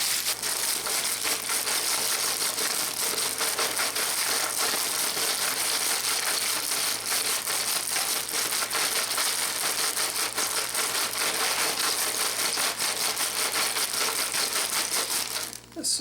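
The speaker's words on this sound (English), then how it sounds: "seal up your bag of ice and start shaking" A sealed bag of ice with ice cream mix inside is shaken hard, giving a continuous loud crunching, rattling crinkle of ice and plastic that runs steadily for about sixteen seconds before stopping.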